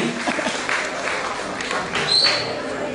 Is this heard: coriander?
no